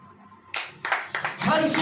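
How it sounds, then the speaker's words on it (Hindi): A church congregation claps their hands during a Hindi worship service. Several loud, separate bursts of clapping come in quick succession, with people talking in between. "ताली बजाएं।"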